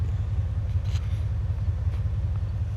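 Engine of a factory-original 2000 Cadillac Eldorado ESC idling nearby, giving a steady low, throbbing rumble with a few faint clicks or rustles over it and no talking.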